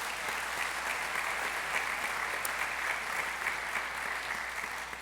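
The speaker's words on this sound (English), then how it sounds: "Let's give them all a big round of applause" An audience at a Yom Kippur synagogue service gives a round of applause, a soft, fairly distant, even wash of many hands clapping steadily throughout with no voices over it.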